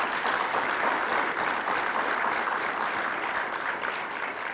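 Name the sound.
audience applause for Reverend Sanders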